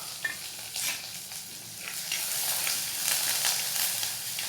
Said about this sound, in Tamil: நல்லா வதக்கி விடலாங்க.